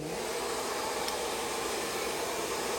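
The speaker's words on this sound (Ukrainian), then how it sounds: "Демонструю з феном." A hair dryer blows continuously while hair is styled onto a round brush during a haircut, a steady, loud whooshing roar with no pauses.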